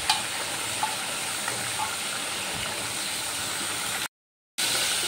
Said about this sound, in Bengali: এবার আমি দিয়ে দিচ্ছি ভেজে রাখা মাছগুলো, সব মাছগুলো ঝোলের মধ্যে দিয়ে দিলাম।